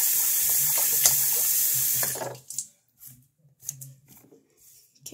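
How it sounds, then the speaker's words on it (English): A faucet runs into a sink for about two seconds with a loud, steady hiss, then shuts off, leaving quiet handling and clattering sounds. "we're gonna wash out our mess in the sink"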